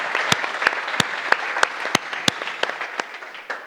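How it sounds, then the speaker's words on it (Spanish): A small audience at a talk on leadership soft skills applauds a guest speaker with a short round of scattered, distinct claps, fairly close and without voices over it. "Un aplauso, por favor, para Íñigo del Grupo Eneo."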